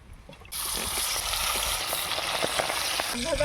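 Fish coated in salt and turmeric drops into hot oil and bursts into a loud, close sizzle that keeps crackling and spattering steadily after a brief quiet start.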